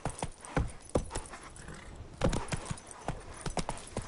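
Roach, Geralt's horse in the video game The Witcher 3, trots along with a steady clip-clop of hooves, a series of sharp, fairly close hoofbeats in an uneven rhythm, heard alone without talk.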